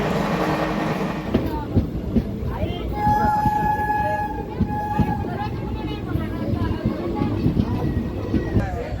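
The 01451 Kolhapur-Kalaburagi Superfast Express pulls out of Solapur station with a continuous rumble and clatter of wheels, a sustained tonal horn midway, and someone talking over it throughout.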